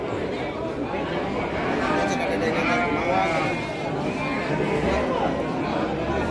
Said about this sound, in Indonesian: jenis domba garut